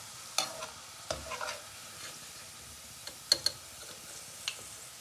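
Browned onions lifted out of hot frying oil for chicken haleem: soft sizzling under a few sharp scraping clicks of a utensil against the pan, spaced irregularly.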